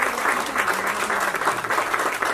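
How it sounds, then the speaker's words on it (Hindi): Loud, sustained applause from a crowd at a stage event honouring Dr Vijay Chandak, many hands clapping in a dense continuous wash close at hand. "बेटर हाफ डॉक्टर विजय चंडक जी के लिए जोरदार तालियां हो जाए।"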